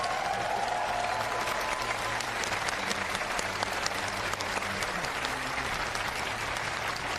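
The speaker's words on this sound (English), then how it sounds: "Give yourselves another big round of applause" Sustained, dense applause from an auditorium audience at a Pomona College California governors debate in Bridges Auditorium, steady and loud from start to finish with no pauses.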